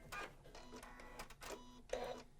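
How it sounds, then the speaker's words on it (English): A Janome sewing machine back stitching on a bag gives several short, close mechanical whirring bursts separated by brief pauses, quiet and alone without talk. "I'm going to stop here and back stitch and cut thread,"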